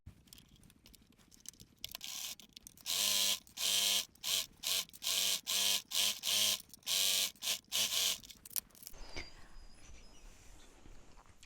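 Sewing machine stitching a fabric scrunchie wristlet: a quiet lead-in, then several loud, steady motor runs broken by brief pauses, trailing off into low handling noise.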